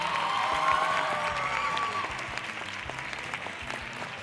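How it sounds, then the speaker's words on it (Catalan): A school audience at a spelling quiz show bursts into applause for a team, dense clapping with some cheering that gradually eases over a few seconds while a voice is heard briefly. "Un aplaudiment per a ells."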